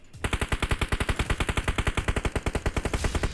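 Rapid automatic gunfire in the PUBG Mobile battle royale game, a steady close burst of about twenty evenly spaced loud shots with no speech over it.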